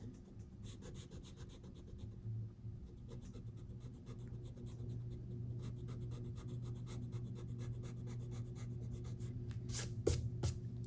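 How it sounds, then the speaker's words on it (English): Pencil lines being erased from paper: a steady, close scratchy rubbing that runs continuously from start to end under a low background hum, with a slightly louder burst near the end. "now I can erase those lines"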